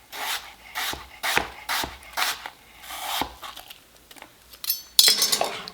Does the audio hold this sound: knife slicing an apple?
yes